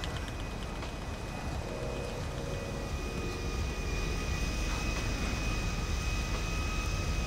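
Airplane engine in the GTA 5 video game, a steady, even drone holding at moderate level throughout with no voices over it.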